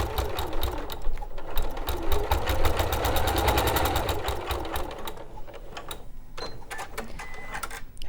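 Sewing machine stitching through fabric and batting with a longer stitch length while quilting a pixelated rose quilt, running in a steady rapid rhythm close up, then easing into slower, sparser stitching with small clicks.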